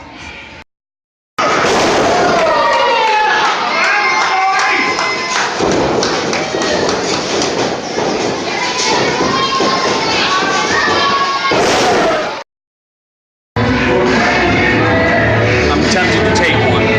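Fireworks bursting at an outdoor show venue, a dense run of loud thumps and crackling pops filling most of the stretch, with children's voices and crowd chatter mixed in between short breaks.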